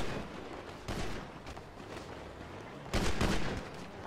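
Gunfire in GTA V on a Star Town roleplay server: a short burst of shots, a pause, then a louder, longer volley near the end.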